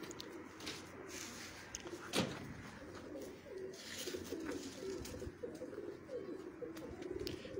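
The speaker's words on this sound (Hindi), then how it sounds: "ये दोस्तों ये इनके कुछ ब्रीडर कबूतर हैं" Breeder pigeons coo in a loft at a pigeon keeper's place in Sheikhupura district, a low steady murmuring of several birds running throughout, with a faint knock or door sound partway through.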